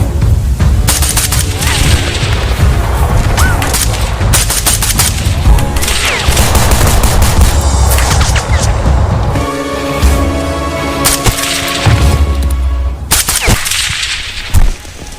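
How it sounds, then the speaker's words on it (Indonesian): Loud, dense gunfire from a war-film shootout, with rapid bursts and heavy booms overlapping continuously and crowding the whole scene. "Baku tembak pun tidak terhindarkan."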